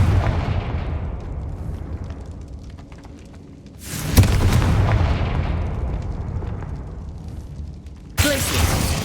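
Confringo fire spell explosions in the game Hogwarts Legacy, two heavy booming blasts several seconds apart, each with a sharp crack followed by a long rumbling decay.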